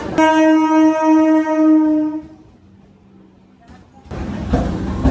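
A Namkhana–Sealdah local train leaving Kakdwip Junction sounds a long, loud, steady horn blast, then a quiet lull before a heavy rumble of the train rolling builds up close by.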